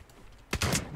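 Rapid shotgun blasts from a multi-shot shotgun in the Sabotaj shooter game, a quick cluster of loud close-range shots after a brief quiet stretch of ambient game noise.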